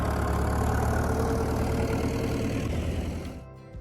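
A John Deere 4020 tractor engine idles steadily and close up with an even, knocking mechanical rhythm, then fades away in the final moment.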